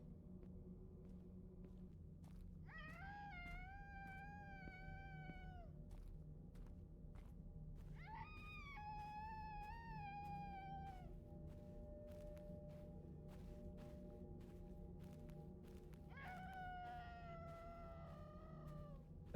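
Three separate howling cries, dog-like rather than human, echo one after another in a scary video game over a constant low drone, each wail rising then sliding down, with soft thuds and ticks scattered between.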